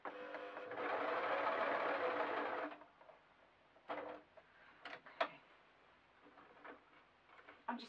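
A sewing machine runs a hemline in one steady burst of about two and a half seconds, close and fairly loud, then stops, leaving faint handling clicks and taps.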